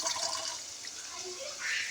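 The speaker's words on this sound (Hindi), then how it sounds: "ये हमने जो है ना थोड़ा सा पानी कर दिया इसमें ऐड" Water pours into a cooking pot of curry gravy with a close, steady hissing splash that runs for about two seconds, without pause, at moderate loudness.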